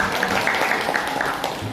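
Audience applause at a cultural writing seminar in Indonesia, a dense, steady patter of many hands clapping through the short stretch, with some faint voices mixed in.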